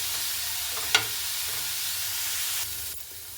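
Cabbage for chicken momo filling fries in a pan with a steady close sizzle, broken by one sharp scrape of a stirring spoon, then settling quieter toward the end.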